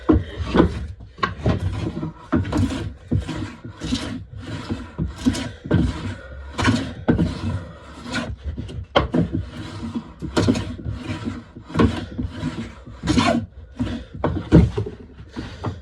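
A hand plane works along the handle of a wooden mallet in repeated loud, rasping strokes, each a short scraping swish, at a steady rhythm close by.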